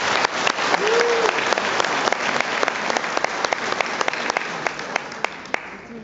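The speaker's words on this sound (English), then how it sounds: "So let's have a round of applause also for the Friendship Force of Olympia" A conference audience at the Friendship Force World Conference awards in Auckland gives a round of applause, steady and fairly loud with sharp individual claps standing out and a few voices underneath.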